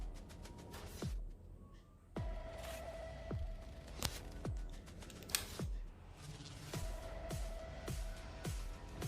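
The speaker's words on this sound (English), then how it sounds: "Take a sharp nib cutter so that you can cut properly" Paper stencil being cut with a sharp nib cutter: repeated short scratchy strokes and taps against a quiet background, close and fairly faint, with brief pauses between cuts.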